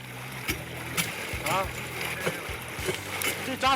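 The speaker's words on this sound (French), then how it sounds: "Ça fait une fontaine." Water gushes up through a hole broken in river ice in Siberian cold, splashing and bubbling in irregular surges, close and moderately loud with no talk.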